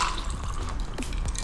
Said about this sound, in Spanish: Agregamos nuestra mezcla a un vaso con mucho hielo.